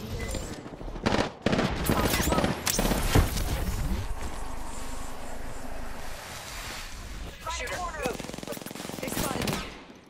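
Gunfire in a shooter video game: bursts of rapid automatic fire and sharp single shots, loud and close, with a rushing wash of noise between volleys and a voice speaking briefly.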